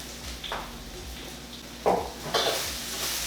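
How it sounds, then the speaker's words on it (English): Garlic, onion or shallots and Thai chilies being stir-fried in a pan for Thai pineapple fried rice: quiet background sizzle with a few sharp scrapes and clinks of a utensil against the pan, no talking. "Stir fry that up."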